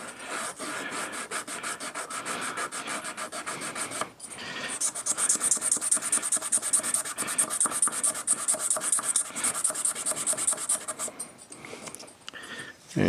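Fine 400-grit abrasive rubbing back and forth over the rusty steel blade of an old knife, a steady close rasping stroke rhythm that runs continuously with a short pause near the middle, no talking.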